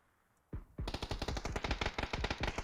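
A gun fires in the video game PUBG: a sudden start, then rapid automatic bursts, loud and close, steady rhythm of shots continuing to the end, no talk.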